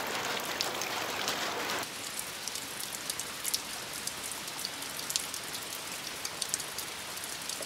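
Rain falling outside a yurt at an off-grid homestead: a steady, dense hiss of drops on the surface with scattered sharper ticks, heavier for the first two seconds, then lighter and continuous, with no voices.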